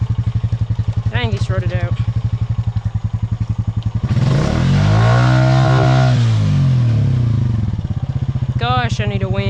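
A 420 engine revs hard on a muddy, rutted trail while the rider tries to shift into reverse, swelling into a loud, sustained roar after idling clatter, with someone talking before and after.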